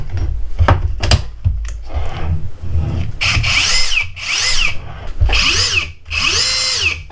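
A Metabo HPT 36V cordless hammer drill (DV 36DA) whirs in several short bursts, spinning up and winding down with rising and falling whines, close and loud with brief pauses between triggers.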